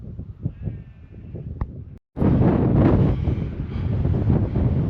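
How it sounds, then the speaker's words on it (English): Blustery wind on an exposed Dales Way hillside near Dent Head buffets the microphone in loud, steady gusts after a brief drop-out, with faint bleat-like sounds early on. "camera will pick up the wind noise, but it's quite blustery up here"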